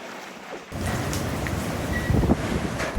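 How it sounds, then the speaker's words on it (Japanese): Strong wind at an exposed coastal hotel in Chuuk after a typhoon, a loud, steady roar with gusty buffeting on the microphone, no talking. "ここはもろに風が当たる場所なので、とにかく強風"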